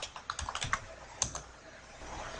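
Keystrokes clatter on a computer keyboard as commands are entered while configuring a Cisco Call Manager Express telephony service, a short burst of clicks followed by a few isolated taps, close and fairly quiet, with no voices.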